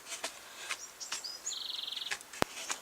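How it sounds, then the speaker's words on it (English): A songbird sings in a garden, giving several separate short chirps and whistles and then a quick run of evenly repeated notes, moderately near, with no talking and a sharp click near the end. "my pretty sounding bird is back"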